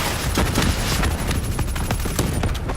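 Sustained gunfire from a Call of Duty: Black Ops III firefight against a Manticore, dense overlapping bursts of automatic weapons and blasts filling the whole stretch at steady, loud intensity.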